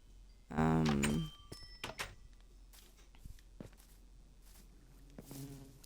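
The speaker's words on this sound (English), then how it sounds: "Hello, bees." Bees buzz in the Minecraft video game, with one loud close drone at the start and a fainter buzz near the end, amid scattered small clicks.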